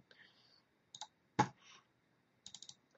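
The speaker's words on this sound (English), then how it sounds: "Somehow my mouse is double clicking." A computer mouse clicks several times at a desk, including rapid double clicks in quick pairs and a few sharper single taps, crisp and close against near silence.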